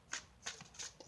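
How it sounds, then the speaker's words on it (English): Tarot cards are shuffled by hand in three or four quick, soft riffling bursts, faint and close, with no talking. "For some reason lately it's been taking a little bit of time to shuffle."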